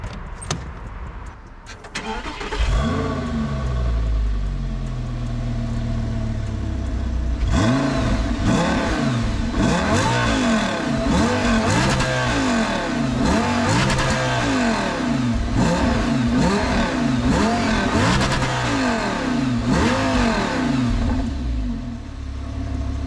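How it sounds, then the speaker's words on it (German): Audi R8 with a naturally aspirated V10 starts up near the exhaust, settles into a loud idle, then is blipped through a long series of sharp revs that rise and fall in quick succession, with keys jingling at the start. "Wir machen mal einen kurzen Soundcheck von dem, von dem Wagen."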